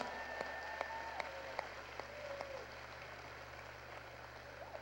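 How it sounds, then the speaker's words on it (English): A crowd at a Mitt Romney and Paul Ryan campaign rally in Ashland, Virginia applauds military veterans, a sustained, distant-sounding patter of clapping with a few sharper claps and faint cheers throughout. "Raise your hand so we can give you a round of thanks and applause for what you've done"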